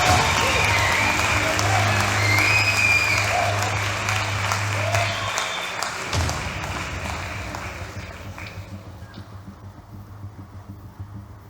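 Sustained applause fills the room at a book launch, loud at first and gradually fading away, with a low hum underneath and scattered voices mixed in.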